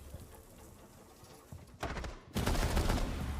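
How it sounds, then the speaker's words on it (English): Gunfire from the video game Valorant crackles in rapid bursts, growing into a loud sustained volley toward the end, with no voices over it. "What is he shooting at? The roof?"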